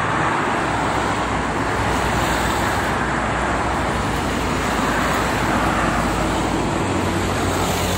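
Steady, loud roar of highway traffic on the Jakarta–Cikampek toll road, with paired trucks rumbling past in a continuous broadband wash of engine and tyre noise, no voices.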